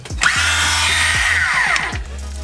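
A power saw from a budget tool kit spins freely without cutting, a steady close whine after a quick start, with a few low knocks underneath and the motor winding down near the end.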